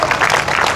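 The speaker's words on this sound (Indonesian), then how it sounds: "Berikan tepuk tangan buat Tuhan." Applause from a church congregation during a service, a dense steady wash of clapping filling the short moment without pause.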